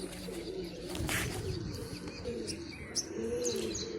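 Pigeons coo softly and repeatedly nearby, with a few light chirps and faint rustling in the background.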